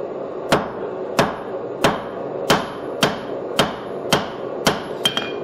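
A hammer strikes forged steel ends to flatten them, giving eight evenly spaced ringing blows about two-thirds of a second apart, near and loud, ending with a quick double tap.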